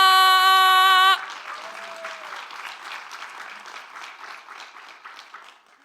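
An audience at a youth poet laureate showcase claps for a poet, a steady dense patter that slowly thins and fades after a sustained bright tone cuts off at the start.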